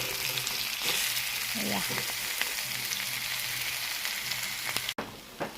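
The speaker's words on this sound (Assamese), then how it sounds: "অকণমান আলুখিনি ভালকৈ ৰঙচুৱাকৈ ভাজি ল'ম" Boiled potatoes sizzle steadily in hot oil, browning in a continuous crackling fry with occasional stirring scrapes and a brief clunk near the end.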